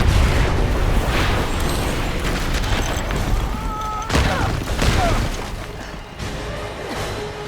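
Loud booming blasts and crashing debris from Gears 5 game action, with rumbling low end and overlapping bursts throughout.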